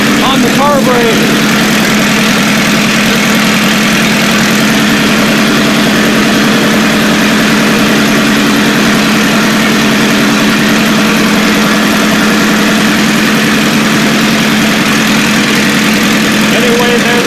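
Engine idling steadily while the carburetor idle valve is adjusted, a loud, close, continuous low hum with constant vibration through the whole stretch, a brief rattle near the start, no talk.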